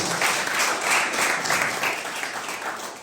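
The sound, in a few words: applause at rugby club kit launch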